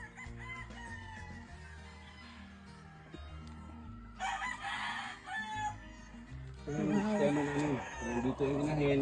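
Gamefowl roosters crow repeatedly in the breeding area of a gamefarm while hens cluck, the calls rising louder and overlapping toward the end, with faint talk in the background.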